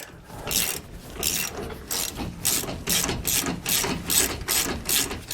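A ratchet cranks bolts tight on a Roadmaster rear anti-sway bar for a 2015 Ford F-53, a loud, close, regular series of about a dozen rasping clicks.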